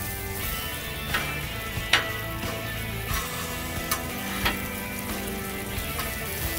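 Sausage frying on a flat griddle alongside a breakfast of bacon, omelets and hash browns makes a moderate, even sizzle with occasional sharp ticks and spatula taps over a low background hum.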